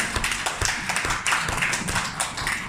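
A training-class audience claps hands together in quick, uneven bursts, close and fairly loud, with dense overlapping claps and no talk.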